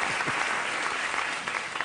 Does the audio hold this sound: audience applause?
yes